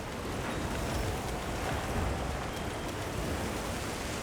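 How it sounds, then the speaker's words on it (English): Heavy rain pours down steadily in the video game Monster Hunter Wilds, a dense, constant hiss of falling water with no pauses or talking. "The rain's really coming down."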